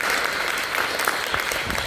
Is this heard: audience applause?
yes